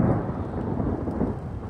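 Heavy thunder rolls continuously over dense, steady rainfall, a loud and close storm with no voices.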